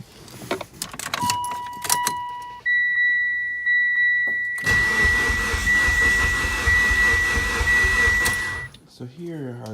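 A Mitsubishi Evo that will not start: keys jingle, a door chime beeps, then the starter cranks the engine steadily for several seconds without it catching, loud and close.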